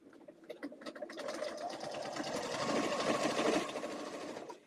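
A sewing machine stitching a foundation paper piecing quilt block, starting with a few short stitching bursts and then speeding into a steady, fairly quiet whir that runs to the end.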